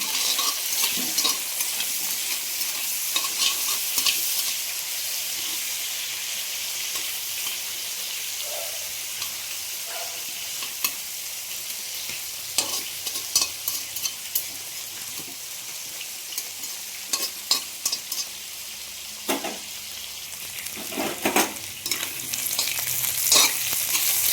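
Potatoes and onions fry together in a pan, giving a continuous close sizzle. Frequent stirring clatters and scrapes run through it, growing busier toward the end, with no talking.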